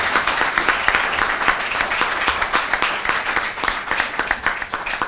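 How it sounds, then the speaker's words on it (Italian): An audience at an Italian regional election rally applauds, producing dense, sustained clapping with rhythmic patches. It is loud and close, with no speech over it. "rivolgerei un applauso di affetto e di ringraziamento"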